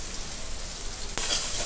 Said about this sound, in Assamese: ভালকৈ এইখিনি ভাজি ল'ম অলপ মছলাখিনি